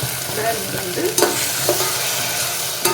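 Ground tomato meets hot oil in a pan while being stirred for restaurant-style tomato spaghetti, giving a loud, close, continuous sizzle with a few scraping stirring strokes and no talking.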